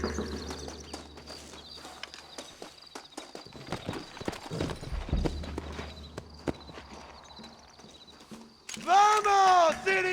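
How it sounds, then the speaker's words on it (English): Hooves clip-clop unevenly as horses walk and trot in Red Dead Redemption, in Nuevo Paraíso, Mexico, with thuds and rustling, then a sudden louder burst of sound near the end. "Looks like Carlos left us some horses."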